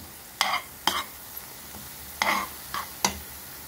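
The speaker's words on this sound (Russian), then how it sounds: "Добавил я томатную пасту и продолжаем вот так вот дальше помешивать и еще пассируем." Five or six sharp scraping strokes of a spoon stirring tomato paste in a pan, spaced irregularly over a soft background sizzle, close and clear with no talk.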